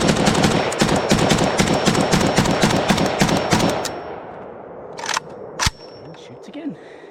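WBP Jack AKM rifle firing from a steel Polish magazine at the range, a loud rapid string of evenly spaced shots lasting about four seconds, followed by a few scattered clanks and handling noises.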